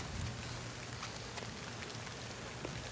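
Rain falls outdoors as a faint, steady hiss of drops with occasional soft patters and no voices.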